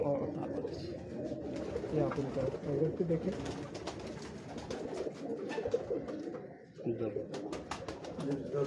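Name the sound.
pigeons cooing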